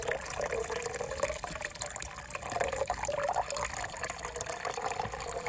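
Water poured into a home saltwater fish tank, a continuous close splashing and trickling with no gaps, moderately loud throughout.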